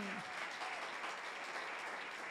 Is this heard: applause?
yes